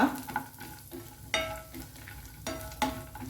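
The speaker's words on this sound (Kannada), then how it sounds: "ಗ್ರೇಪ್ಸ್ ಹಾಕ್ತೇನೆ, ದ್ರಾಕ್ಷಿ. ಇದನ್ನು ಚೂರು ಫ್ರೈ ಮಾಡುವ." Grapes fry in ghee for carrot halwa, giving a soft sizzle with a few louder stirring scrapes spread across the clip, close but moderate, over a faint tonal hum.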